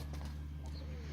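A young female tumbler pigeon coos briefly at close range over a steady low background hum.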